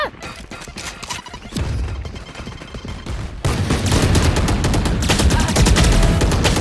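Phantom rifle in Valorant, with the Spectrum skin: dense, loud automatic fire with rapid cracking shots and clattering impacts, building into a sustained heavy barrage, over a background mix of game sounds.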